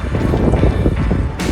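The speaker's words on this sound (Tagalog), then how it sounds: "Mahangin pa." Wind blowing hard across a high bike trail, a loud continuous rumbling buffet on the microphone with no pauses.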